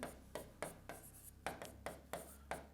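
Chalk or marker strokes on a board during a maths lesson, a series of short scratchy writing bursts in a steady rhythm, close and fairly quiet, with no talk.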